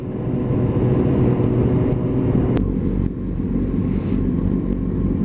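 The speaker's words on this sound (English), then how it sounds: "Ferrari." A Ferrari passing at a car meet in Maple Grove, a loud low engine rumble and road roar that holds steady for several seconds.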